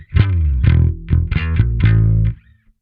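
Distorted guitar tone through a Neural DSP Parallax X plugin, a handful of gritty, saturated notes and chords struck one after another in a short phrase that rings out and cuts off cleanly.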